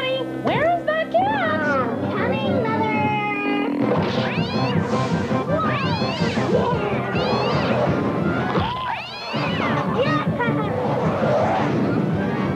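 A cat meows repeatedly amid busy background voices and noise, the calls rising and falling over several seconds.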